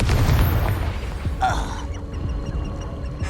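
The Confringo spell goes off in Hogwarts Legacy, a loud, heavy explosive burst with rumbling low end at the start, then fading debris and crackling in a noisy battle.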